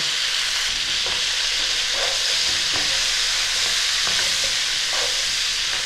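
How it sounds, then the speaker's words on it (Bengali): Cauliflower florets fry lightly in hot oil with dry red chilli, salt and turmeric, giving a steady, loud sizzle throughout with occasional stirring scrapes. "ফুলকপিগুলো হালকা ভেজে নেব।"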